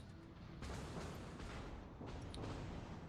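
Warship guns in World of Warships, including Kurfürst secondary batteries, main guns and a Hindenburg firing, make a continuous rumbling barrage of booms with a few sharper blasts standing out, loud and dense throughout.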